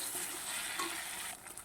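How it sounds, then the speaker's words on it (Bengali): Okra tossed with spice masala in a pan gives a faint, steady frying hiss with soft scraping of the stirring, fading slightly at the end. "ভেন্ডিগুলো একটু আমি মশলার সাথে মিক্স করে নেব।"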